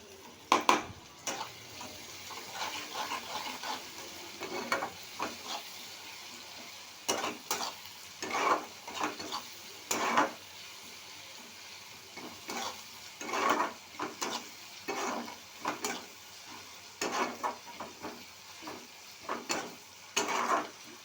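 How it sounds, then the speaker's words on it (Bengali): Green chili, onion and garlic frying in a small pan with repeated bursts of stirring and scraping at irregular intervals, fairly close and moderately loud. "কাঁচা লঙ্কা পেঁয়াজ রসুনটা ভাজতে দিয়ে দিলাম"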